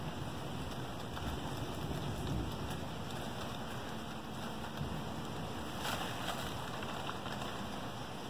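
Steady rain pours down outdoors in a continuous dense hiss that holds at an even level throughout, with no voices over it.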